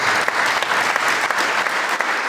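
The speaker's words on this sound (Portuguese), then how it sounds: "umas palmas bem fortes para Jesus." A church congregation at a Friday night service claps strongly in a dense, continuous burst, loud and full with a few sharper individual claps standing out.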